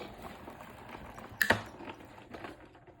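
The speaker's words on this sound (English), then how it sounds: "we're covering it up and rolling it through our Sizzix Big Shot" A Sizzix Big Shot die-cutting machine rolls a die sandwich through, giving a brief mechanical clatter of gears and rollers near the middle of an otherwise quiet stretch.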